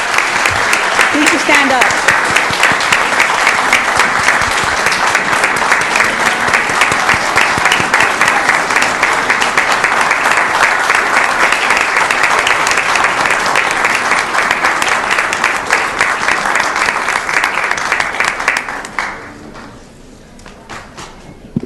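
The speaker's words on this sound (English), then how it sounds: "give him another round of applause for all his years of service" Long, loud applause at a city council meeting honoring someone for years of service, dense clapping from a crowd lasting nearly twenty seconds before tapering off, with brief talk near the start.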